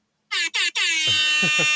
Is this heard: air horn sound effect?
yes